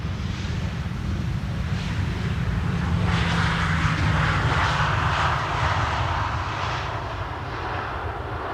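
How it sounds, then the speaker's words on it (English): A Transavia Boeing 737-800 lands on Schiphol's Polderbaan runway 18R, a loud, steady jet engine roar that builds and swells mid-way, with some wind rumble and no voices. "Transavia landing here, 737-800."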